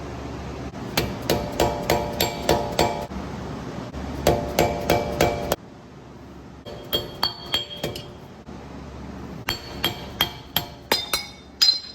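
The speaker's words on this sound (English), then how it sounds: "Tap it with a 3-pound dead weight hammer" A 3-pound dead-blow hammer taps a CV axle on a Toyota Sequoia in a garage: several bursts of sharp, ringing metallic strikes in quick series, loud and close, separated by short pauses.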